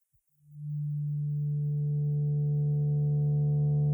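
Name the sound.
synth patch: FM'd 4-bit sine and triangle waves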